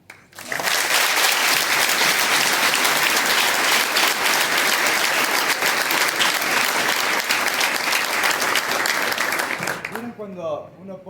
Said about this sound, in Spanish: Yo creo que en primer lugar se merece un aplauso.